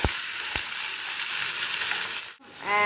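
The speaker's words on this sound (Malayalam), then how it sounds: "അരിഞ്ഞും കഴുകി വെച്ചിരുന്ന കപ്പയ്ക്ക ഈ ചീനിച്ചട്ടിയിലോട്ട് ഇടാം." Chopped raw papaya tipped into a hot pan of oil with curry leaves and a dried red chilli, giving a loud, steady sizzle close up, with a couple of sharp knocks and a short gap near the end as it settles.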